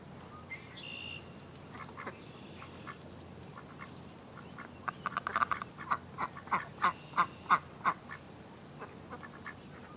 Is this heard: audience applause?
no